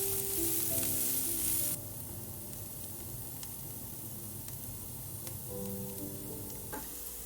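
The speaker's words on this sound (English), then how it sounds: "add a little bit more oil, then add the carrots and green beans. Stir fry for about 30 seconds." Carrots and green beans stir-frying in oil, giving a continuous close sizzle with faint ticks of stirring. A louder burst opens the sound before it settles to a steadier hiss, with a steady electronic tone running underneath and no speech.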